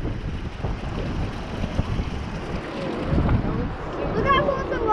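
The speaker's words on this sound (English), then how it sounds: "Super windy." Strong wind buffets the microphone in a continuous rumbling roar at the lower side of Chilhowee Dam, with a voice faintly audible toward the end.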